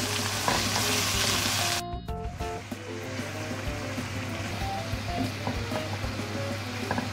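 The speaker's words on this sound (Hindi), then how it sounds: "अब इसकी भुनाई करूँगी मैं अच्छे से।" Tomato masala with cumin and nigella seeds being fried and stirred in a pan for aloo gobi: a constant close sizzle with scraping stirs, music playing underneath.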